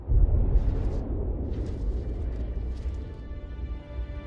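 An explosion in the video game Injustice: Gods Among Us booms with a heavy low rumble that hits hard at first, then settles into a long rolling roar with faint crackling debris, with no speech.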